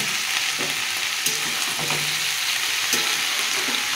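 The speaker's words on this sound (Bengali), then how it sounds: "এটা দিয়ে খানিকক্ষণ ভেজে নেবো" Chopped vegetables with pui (Malabar spinach) stems and eggplant sizzle steadily in a pan for a vegetarian pui metuli, a continuous close, bright frying hiss with occasional stirring clicks and no talk.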